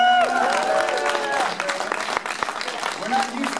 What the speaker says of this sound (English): We're not used to applause, so we appreciate that.